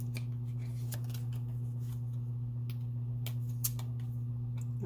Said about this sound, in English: I'm just going to snip it off because it folded down on itself.